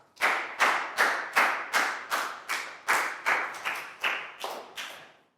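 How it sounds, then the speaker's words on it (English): A classroom of Year 4 pupils gives a round of applause for a classmate, heard as about a dozen evenly spaced, loud, sharp clap bursts in a steady rhythm, close and clear with no talking. "Big round of applause for Pat."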